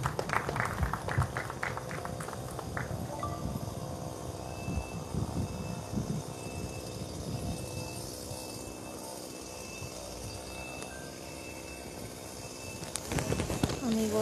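Crowd applause welcoming a parish priest at a church atrio solidarity event in Chancay, with a burst of clapping at the start and again near the end, fairly distant under ongoing crowd noise and talk.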